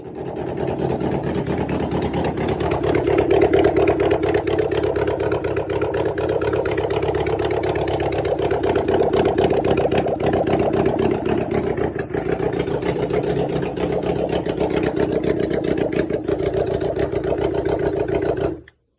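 A restored 1993–1996 Suzuki GSX600F motorcycle engine runs steadily at idle, a continuous even drone held for nearly twenty seconds that cuts off abruptly at the end.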